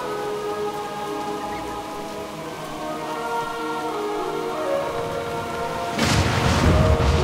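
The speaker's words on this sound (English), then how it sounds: "Captain, we can't weather this storm for long." Heavy rain pours steadily in a rainstorm in World of Warcraft Shadowlands, with a sudden loud burst of thunder-like rumble and splashing near the end.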